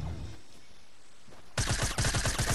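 Gunfire in Fortnite: after a quiet stretch, a sudden rapid burst of loud, close automatic shots rattles off in quick succession.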